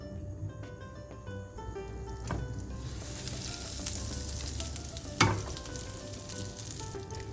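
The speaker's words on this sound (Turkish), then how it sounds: "Salça sosumuz için tavamızın içerisine dolu dolu 1 tatlı kaşığı tereyağımızı alıyoruz." A generous spoonful of butter melts and sizzles in a frying pan while a tomato paste sauce for baked İzmir köfte is started. A steady, close frying hiss holds throughout, with a few stirring scrapes and a sharp clatter near the end.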